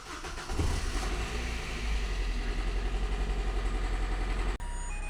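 A Suzuki two-seater car's engine starts and settles into a steady close idle with a low pulsing rumble, then cuts off abruptly near the end.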